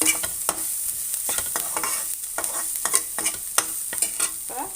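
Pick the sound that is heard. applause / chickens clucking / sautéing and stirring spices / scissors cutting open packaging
sautéing and stirring spices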